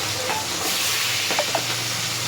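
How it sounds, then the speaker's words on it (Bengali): Katla fish frying in a pan, giving a steady, close sizzling hiss throughout with a few faint stirring clinks. "এই যে মাছ ভাজবো"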